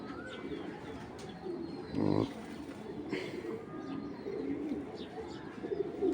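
A racing pigeon gives a soft, low coo at close range, a single short phrase over a faint, noisy background with a few distant chirps.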